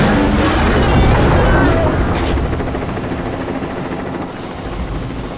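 A helicopter in the film 40 Days & Nights churns with a loud, continuous rotor and engine rumble that gradually fades slightly, mixed with other action noise.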